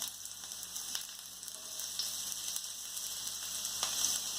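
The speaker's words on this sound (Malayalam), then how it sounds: "ഒരു തവ അടുപ്പത്ത് വെച്ച് അതിലേക്ക് നമുക്ക് കുറച്ച് വെളിച്ചെണ്ണ ഒഴിച്ചു കൊടുക്കാം. ഇനി അതിലേക്ക് നമുക്ക് ഈ ഉള്ളി ഇട്ട് കൊടുക്കാം." Onions frying in coconut oil on a hot tawa, a steady close sizzle with faint crackles and no voices.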